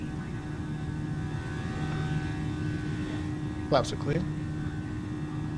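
Airbus A320neo jet engines drone steadily in flight in Microsoft Flight Simulator on Xbox Series S, a low even hum beneath a pilot's voice calling out cockpit checks.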